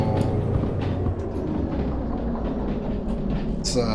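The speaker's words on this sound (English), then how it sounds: "Holy cow, this is a long train" A long freight train rolls steadily in the Derail Valley simulator, a dense continuous rumble with faint wheel clatter and a brighter squeal near the end, staying loud throughout.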